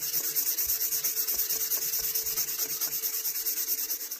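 Sandpaper rubbed by hand over the blade of a vintage fisherman knife, producing a close, steady rhythmic scratching of quick back-and-forth strokes with no speech.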